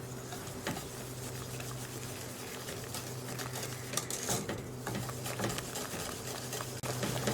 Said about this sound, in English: just using a whisk, we just want to stir this all together.